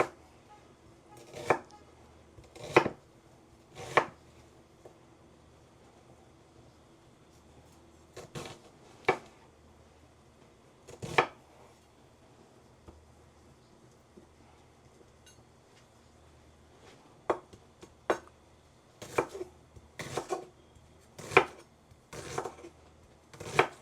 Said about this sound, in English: I'm just dicing up the onion right now